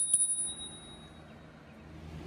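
The bicycle bell on a Himiway Cruiser e-bike gives one sharp ding right at the start, near and crisp, followed by a quiet ringing decay and faint room noise.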